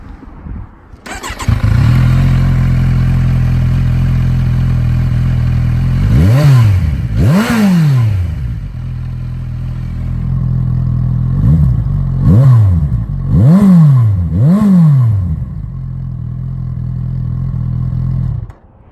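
A motorcycle with an aftermarket exhaust starts and idles loudly up close, then is revved in several sharp bursts, two single blips followed by a quick cluster of three, before settling back to a steady idle.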